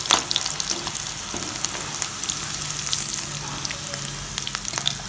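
Bitter gourd pieces deep frying in hot oil give a loud, steady sizzle with crackling bursts and occasional stirring scrapes, close up and without talk.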